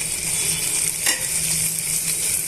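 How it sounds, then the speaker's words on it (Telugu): Tomato pieces, ginger and green peas fry in a pan for semiya upma, giving a loud, dense, unbroken sizzle close by with a brief stir partway through. "ఇప్పుడు ఇవన్నీ కూడా బాగా వేయించేస్తున్నాను"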